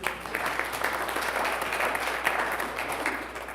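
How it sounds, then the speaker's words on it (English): A church congregation at a pastor appreciation service applauds in a steady, moderate wash of clapping lasting a few seconds, with no talking over it. "Give me a round of applause, please."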